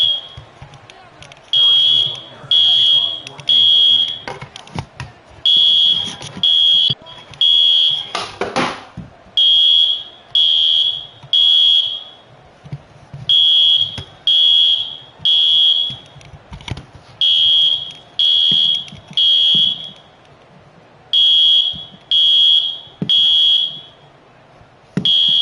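Fire alarm beeping in repeated loud pulses, mostly in pairs and triplets with short gaps, at a football game, ringing over crowd noise and a public-address announcer's voice.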